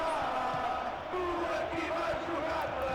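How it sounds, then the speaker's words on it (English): Stadium crowd noise at the Dragao in the football video game PES 2013 forms a steady, loud roar and chant that fills the whole stretch, with the match's commentary voice running over it. "Crowd in such good voice here at the Dragao."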